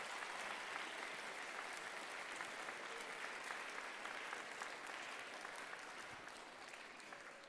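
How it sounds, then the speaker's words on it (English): A school audience at an academic competition event applauds a planning committee, giving steady, sustained clapping that fills the room evenly for several seconds and fades slightly toward the end. "Can we give all of them a round of applause?"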